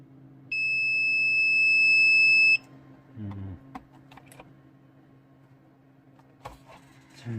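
A loud, steady electronic buzzer on a faulty Keyang C18046A battery charger beeps once for about two seconds as an error signal, followed by scattered clicks and light handling noises.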